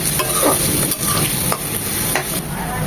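Chopped onion dropped into hot oil with whole spices, frying for liver bhuna, gives a loud, steady sizzle with scraping stir strokes at intervals and no talk.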